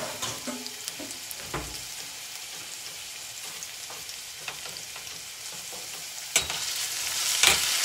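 Garlic sizzling in a pan for vegan lentil soup, a steady light frying hiss with scattered clicks and stirring scrapes, swelling louder toward the end.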